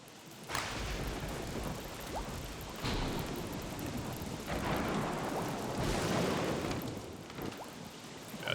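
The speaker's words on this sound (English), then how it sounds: "At this point, the lightning has reached us." In the Don't Starve video game, an approaching lightning storm brings heavy, steady rain with repeated loud rumbling thunder cracks, several booming strikes spaced a few seconds apart.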